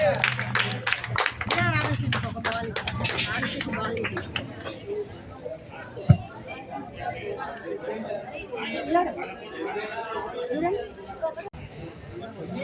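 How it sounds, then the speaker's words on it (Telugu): An audience at a Ganesh festival gathering on a university campus claps for a team called to the stage, a burst of applause fading into loud chatter and children's voices. "క్లాప్స్ కొట్టండి అందరూ."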